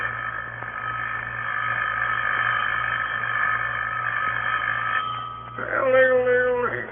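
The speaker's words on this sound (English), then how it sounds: "Hannah, your phone's ringing. Wake up and answer it" An old-fashioned telephone rings in an old-time radio drama, a sustained bell tone over a low background hum, followed by a short burst of wavering, chirping sound near the end.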